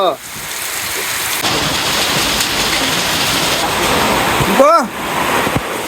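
Steady heavy rain pours down throughout, a dense wash of noise with a brief swooping tone near the end.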